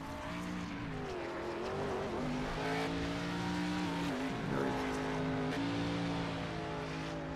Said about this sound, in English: while Steve Gerber does his burnouts